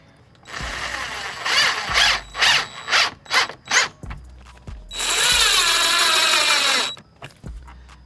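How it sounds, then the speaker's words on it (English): Screws driven into a carbon-fibre three-piece rear diffuser on a BMW G80 M3, likely with a power driver: a series of short whirring bursts in quick succession, then one longer sustained run, loud and close with no talk. "And we're gonna screw them in."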